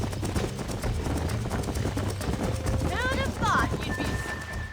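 Horses clip-clop at a gallop in the 2010 video game Red Dead Redemption, a steady hoof rhythm under continuous talking and other game sounds.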